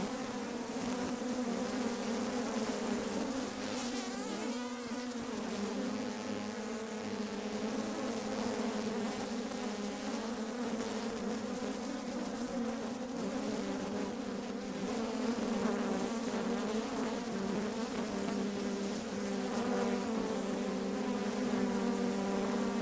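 Honey bees buzz steadily around an open hive in an apiary during a hive inspection, a dense, continuous droning hum of many insects close by that stays loud throughout, with no speech.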